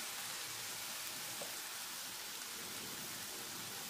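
Chicken shawarma pieces spread apart in a very hot pan give a steady, dense sizzle, a continuous hiss that holds even from start to finish with no talk over it.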